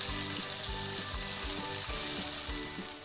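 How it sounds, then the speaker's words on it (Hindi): Beef fries loudly with onion and ginger-garlic in a hot pan with a steady hiss, while a utensil stirs and scrapes in a regular rhythm, close by and without talk. "अब हम 1 से 2 मिनट गोश्त को भूनेंगे प्याज और अदरक लहसुन के साथ।"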